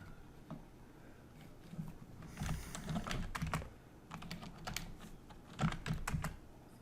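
Keys on a computer keyboard are typed while a chart title is entered in Excel, coming as quick irregular bursts of clicks in several clusters at moderate volume, with no talking.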